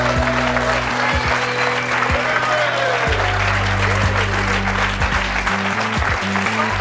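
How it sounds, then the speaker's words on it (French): Studio audience on a French television show applauding loudly and steadily throughout, with dense continuous clapping under background music. "On les applaudit très fort."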